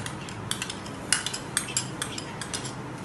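White cream is beaten in a bowl with a utensil, giving a quick series of light, uneven clinks and scrapes against the bowl, faint and close with no talking.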